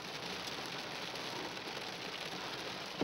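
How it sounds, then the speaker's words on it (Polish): Heavy rain pours down steadily outdoors, a dense, even hiss of drops drumming on surfaces with no pauses and nothing else standing out. "bo naprawdę leje niesamowicie."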